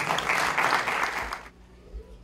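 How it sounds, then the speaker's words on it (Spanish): Applause from an audience at a tribute to a luthier in Otavalo who built mandolins, a dense burst of clapping that stops abruptly partway through, leaving quiet room sound. "Fuertes aplausos para Ali Lema."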